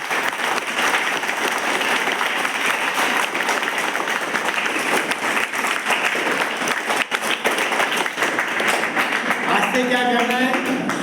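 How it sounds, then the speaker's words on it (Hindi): A school audience in Ranchi claps in sustained, dense applause that stays loud and steady for the whole stretch, with a voice talking over it near the end. "उनके लिए एक बार जोर से तालियां बजाओ।"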